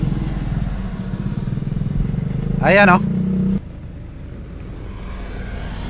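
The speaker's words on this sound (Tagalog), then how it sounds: "Super unstable talaga ang andar ng makina ngayon at sobrang vibration ang lawas nito." Rough, unsteady idle of a Nissan Navara engine with a fuel pump fault, a continuous low rumble that surges briefly mid-clip and then drops back, with a person speaking over it.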